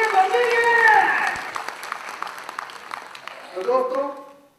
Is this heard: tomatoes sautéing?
no